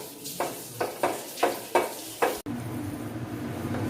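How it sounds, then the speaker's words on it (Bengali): Fresh cream and milk are stirred in a pan, a spoon dragging in rhythmic strokes about every half second, each a soft swish, then a steadier low simmering hiss. "দিয়ে ভালো করে নাড়তে হবে যতক্ষণ না পুরো জিনিসটা মিক্স হয়ে যাচ্ছে"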